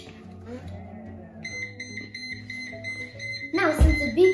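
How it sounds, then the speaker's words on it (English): A Jetson Sphere hoverboard, lifted while switched on, emits a series of evenly spaced electronic beeps close by, with low handling noise underneath and a loud clatter at the end. "I'm gonna teach you how to stop the beeping from coming. First, I'm gonna, on purpose, I'm gonna make the beeping sound happen."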